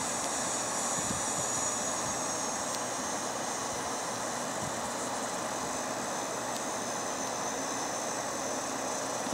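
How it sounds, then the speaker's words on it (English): Steady broadband roar of a Qantas Airbus A380's engines heard on the ground, continuous and fairly loud with a faint high whine on top, no talking. "Man, this is a big plane."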